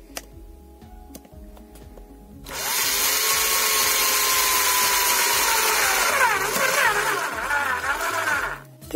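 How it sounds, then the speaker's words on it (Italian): Cordless driver fitted with a hole saw bit boring a hole in an electrical box mount, a loud steady whine starting after a few quiet seconds and running continuously to the end, pitch wavering slightly under load. "Dobbiamo praticare un buco qui. Ci procuriamo un avvitatore con una punta"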